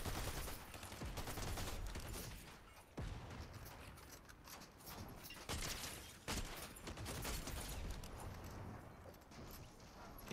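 Gunfire in the video game Fortnite during a no-build match, with loud bursts of shots breaking through at intervals over a dense, busy game soundscape of movement and effects.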